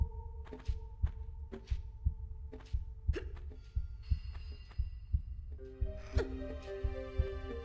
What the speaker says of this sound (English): And you could hear that, the heartbeat, that pounding.